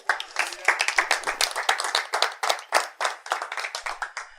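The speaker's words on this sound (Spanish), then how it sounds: "Dele un aplauso a Jesús." A church congregation claps in a brisk, uneven burst of many hands, sharp close slaps continuing steadily for several seconds.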